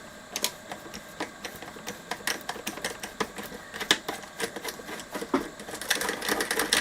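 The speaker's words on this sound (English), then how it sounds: "Just going to go with the 8mm socket." A ratchet with an 8mm socket spins off nuts on a Tom Evans Mastergroove SR mkI preamp, giving rapid close clicking in quick bursts over a quiet room.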